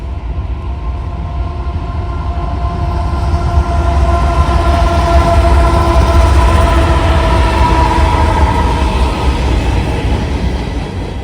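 A Norfolk Southern freight train led by nickel plate road heritage unit ES44AC 8100 rolls by on a central Ohio rail line, a loud, steady rumble of wheels and cars holding for the whole stretch.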